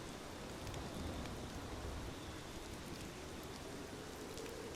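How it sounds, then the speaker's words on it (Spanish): Rain falling steadily as a horror-story sound effect, an even, dense hiss of drops that continues throughout with no speech. "La lluvia no cesaba en Michilondres, y los tejados parecían llorar"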